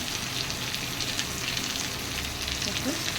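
Pointed gourds with shrimp fry in a pan for a dolma, a steady, even sizzle close by, with faint voice sounds in the background.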